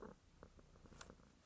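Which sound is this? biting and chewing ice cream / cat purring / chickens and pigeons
cat purring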